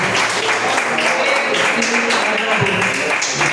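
A church congregation applauds in a steady, dense wash of clapping, with voices talking and calling out over it throughout.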